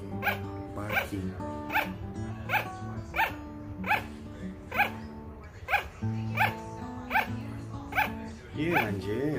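A sugar glider gives a long series of sharp, evenly spaced yapping barks like a small Chihuahua, about a dozen calls in steady rhythm, close and clear with nothing else over them.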